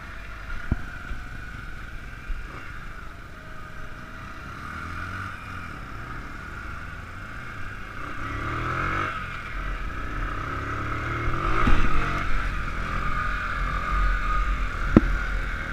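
A motorcycle rolls along under engine braking with no throttle, giving a steady low drone with a few rising and falling engine notes, moderately close and continuous for the whole stretch.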